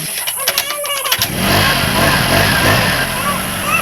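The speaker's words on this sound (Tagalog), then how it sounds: "Anda rin na ang motor." Motorcycle engine starting outside a home, a brief crank with talk over it, then catching into a steady, loud idle that fills the rest of the moment.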